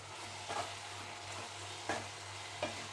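A spoon stirs garam masala and coriander powder into gongura curry in a hot pan, a steady low sizzle underneath with three distinct scraping strokes, close up and without speech.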